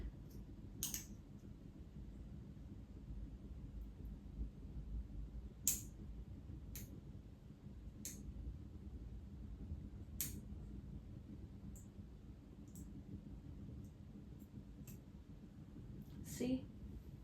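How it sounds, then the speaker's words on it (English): Sharp, faint nail-clipper snips come one at a time at irregular intervals, about a dozen spread over a quiet background while fingernails are trimmed. "I need to cut my nails"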